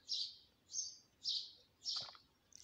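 Swallows chirp in four to five evenly spaced bright calls, each a short rising-and-falling tweet, faint and alone against a quiet outdoor background.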